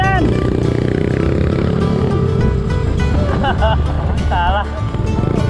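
A bored-up automatic scooter motorbike revs hard along a rough forest trail, its engine droning loud and steady throughout, with voices talking over it.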